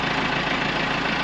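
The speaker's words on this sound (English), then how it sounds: "Backhoe's running out there." A backhoe engine idles outdoors during winter snow cleanup, giving a steady, continuous mechanical rumble with no change in pace over a brief stretch.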